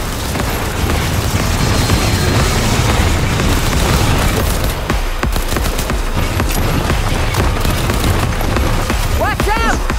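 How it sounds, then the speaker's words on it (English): A loud, sustained barrage of explosions and booms in the video game Cyberpunk 2077 Phantom Liberty, with rumbling blasts and gunfire layered densely throughout and voices shouting over the din. "Barrage coming! Out of the line of fire!"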